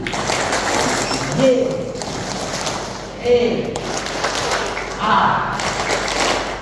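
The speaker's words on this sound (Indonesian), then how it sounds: "Kita berdiri lagi, kita tepuk tangan lagi untuk kerahiman." A church congregation at a Catholic prayer gathering claps hands together in rhythmic bursts, loud and reverberant in a large room, mixed with voices and a few dull thumps.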